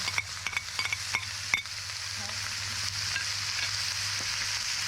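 Brats and half a large chopped onion sizzle in a pan with a steady, moderately loud fry. A few light clinks of stirring come early on, and no voices are heard.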